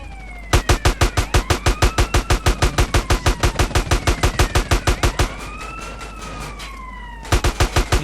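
Rapid automatic gunfire from the video game GTA San Andreas rattles in a steady burst, with a police siren wailing over it. After a short pause the shooting resumes.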